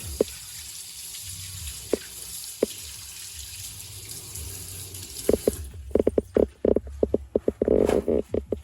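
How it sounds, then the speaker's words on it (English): Tap water runs steadily in a kitchen as hands are washed between steps of making turkey burgers, then cuts off into a few close clicks and knocks; no talking. "Let me wash my hands again."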